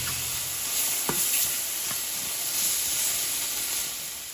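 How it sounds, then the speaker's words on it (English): Onions and vegetables sautéing in a pan until translucent, a steady hissing sizzle with a few utensil taps and stirring scrapes, heard close and without speech. "We're just going to saute these till the onions are translucent."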